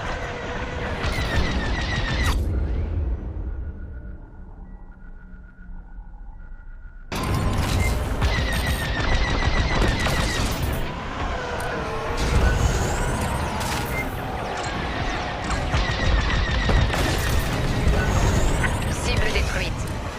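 Starfighter laser cannons fire at station turrets in Star Wars: Squadrons, with dense bursts of shots, whooshing engines and loud mechanical booms throughout, cut by a brief quieter lull, while voices speak over the combat.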